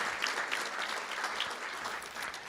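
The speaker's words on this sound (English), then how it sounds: "Let's give them all a round of applause for all they do to support Bernie ISD." Applause from attendees at a school district board of trustees meeting, a soft, even patter of many hands clapping at moderate distance that carries steadily from start to finish.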